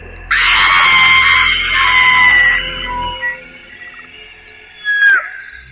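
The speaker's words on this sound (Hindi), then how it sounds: "तभी एक जोर की चीख से उसका ध्यान उस कटोरे से" A loud, piercing scream used as a horror audio story effect, one long shrill cry that sustains and trails off, followed by a brief second shriek, with no talking.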